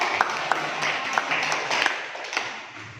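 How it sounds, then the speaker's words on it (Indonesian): A classroom of students clapping together on the teacher's cue, a fairly steady patter of hand claps with a few sharper slaps standing out, lasting about three seconds in a lively room. "Oke, tepuk tangan."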